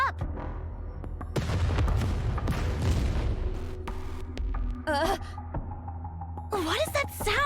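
A Rapture enemy self-destructs in the video game Goddess of Victory: Nikke, a deep rumbling boom swelling early and rolling on, with voices and warbling synthetic effects over it.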